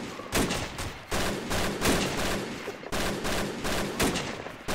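Video game gunfire rattles in dense, rapid bursts, loud and close. Several volleys are separated by brief gaps, with no speech over them.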